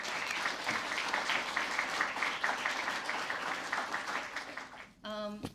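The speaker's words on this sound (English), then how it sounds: "Please give a round of applause" Sustained audience applause at a writers' prize showcase, a dense and steady clapping that stops abruptly near the end as a speaker begins talking.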